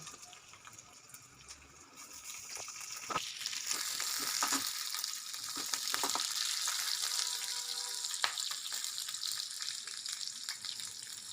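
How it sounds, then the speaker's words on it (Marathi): Garlic cloves, ginger and green chilli pieces sauté in a little oil, building into a steady close sizzle with occasional scrapes and clicks of stirring, no voices. "आता ग्रेव्हीसाठी आपण थोड्याशा तेलामध्ये लसणाच्या दहा बारा पाकळ्या थोडेसे अद्रक छान परतवून घेऊ"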